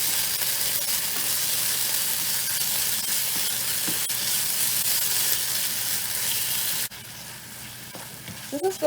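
Ginger and garlic sautéing in a hot pan, a continuous close hiss and sizzle that suddenly drops off near the end, followed by a few faint clinks.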